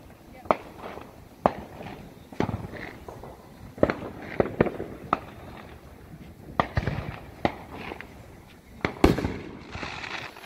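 Loud Fourth of July private fireworks bursts crack right next to a house at irregular intervals, about a dozen sharp explosions, with people talking quietly between them.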